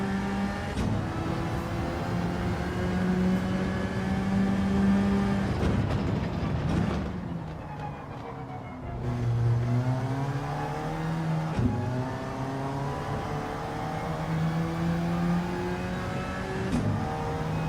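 A racing video game car engine revs steadily and loudly through the throttle, its pitch climbing and dipping across upshifts, with a brief drop in the middle before it pulls again.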